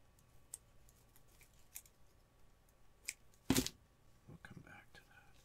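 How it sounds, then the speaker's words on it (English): Scissors cut paper or trim for a handmade Victorian-style Christmas ornament: a faint snip or two, then one sharp close cut followed by soft rustling and handling sounds, all quiet and near. "Need to cut it so it's level though at one side."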